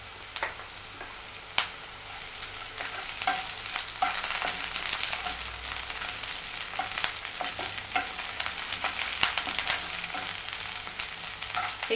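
Sliced onions and curry leaves sizzle steadily in hot oil in a pan for a tomato and peanut sabzi, with repeated scraping clicks of a spoon stirring close by and no talking.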